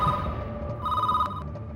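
A telephone bell rings in two short bursts, loud and close against a low background rumble.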